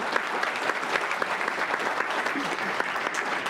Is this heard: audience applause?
yes